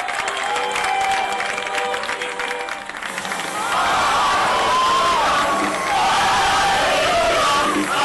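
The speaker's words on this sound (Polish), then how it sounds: "Wielkie, gromkie brawa, proszę państwa!" Audience applause and cheering at a topping-out ceremony for the Musical Theatre in Gdynia, a dense, sustained clatter of clapping that continues steadily for the whole stretch with a slight dip midway.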